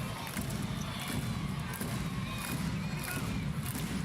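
A crowd at a women's international basketball game, Lithuania against Belgium, cheering a player on at the free-throw line: a steady, dense roar of voices that holds loud and unbroken throughout, with a commentator talking over it.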